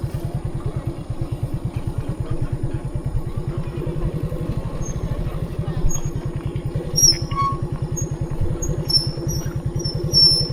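A motorcycle engine idles with a rapid, steady low putter at a lakeside campsite, close and constant, with faint voices in the background.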